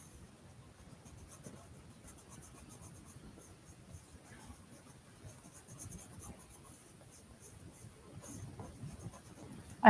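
A colored pencil scratches steadily across paper, soft close-up strokes in an irregular rhythm, faint and quiet, ending in a brief louder knock.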